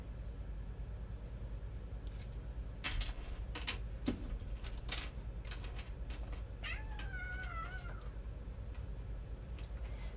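A pet cat gives a couple of faint, drawn-out meows in the background of a quiet room, alongside a few light metallic clicks from chainmail jewelry work, with no talking.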